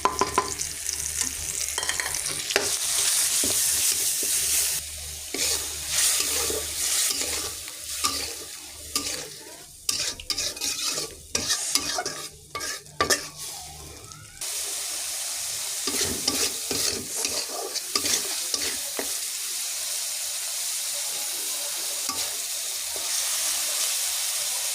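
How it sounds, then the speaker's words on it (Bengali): Onion paste and spices for salted hilsa with taro fry and get stirred in a hot pan. Loud sizzling comes with scraping stir strokes, then eases to a steadier, quieter hiss over the second half, with no voices. "পেঁয়াজ ভাজছে, এবার পেঁয়াজ বাটা দিয়ে দিব।"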